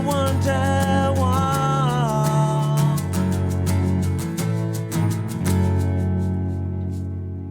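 Live performance at the BBC in 2022: strummed acoustic guitar and a sung melody, steady and full throughout, fading slightly toward the end.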